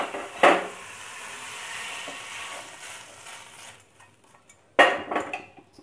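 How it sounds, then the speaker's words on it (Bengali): Sautéed paneer filling being emptied from a pan onto a plate: two sharp metallic scraping clatters of a spatula against the pan, one early and one late, with quiet, faint rustling in between. "এবার এটাকে আমি একটা প্লেটে ঢেলে নিচ্ছি।"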